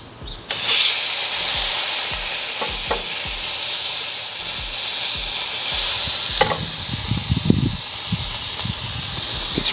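Steak sandwich meat hits a Weber Q 2800N flat-top griddle with a sudden loud hiss, then settles into a strong, continuous sizzle with occasional scraping and popping spatters.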